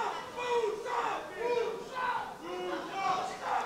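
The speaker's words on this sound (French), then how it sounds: "La foule réagit." A crowd at a boxing match roars and shouts in repeated swelling waves, a dense mass of voices rising and falling several times in quick succession.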